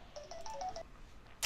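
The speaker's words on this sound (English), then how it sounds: "that was just a phone call" A phone ringtone plays a short run of quick electronic tones, faint and alone, in a quiet room during an apple painting session.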